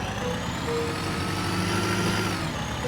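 A tractor engine in the video game Farming Simulator 19 drones steadily at an even, continuous pitch with no breaks.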